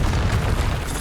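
Fiery blast of the Confringo spell in the Hogwarts Legacy video game, a loud, dense burst of booming, crackling explosion filling the whole second without pause.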